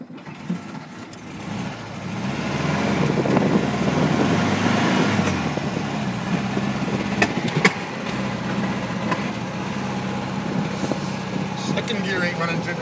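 Engine of a 1972 VW Beetle running in second gear, a buzzy mid-pitched drone that rises around the middle then holds steady, with some faint clicks and knocks along the way.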